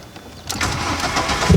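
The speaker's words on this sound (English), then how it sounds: "I'm going to start the Jetta truck because it has been on in a few days" A Volkswagen Jetta truck that has sat unused for a few days cranks up close by, with a rising mechanical whir and a heavier thump as the engine catches near the end.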